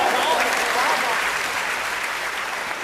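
Audience at a Hindi kavi sammelan poetry recital gives a sustained burst of loud clapping that fades slightly toward the end, filling the whole stretch.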